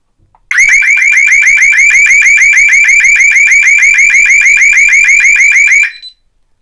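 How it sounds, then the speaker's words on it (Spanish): A DSC security alarm triggered by a bridged zone warbles loudly in rapid, steady pulses for about five seconds, then cuts off abruptly. No voices. "automáticamente va a saltar la alarma."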